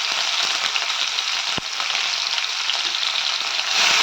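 Onions sizzle steadily in hot oil in a pan for mint rice, a loud continuous frying hiss with faint scattered stirring clicks.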